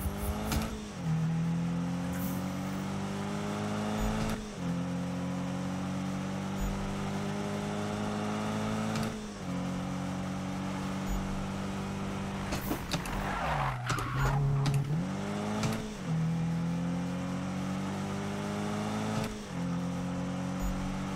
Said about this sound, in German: Fahre das Rundkursrennen mit Spike.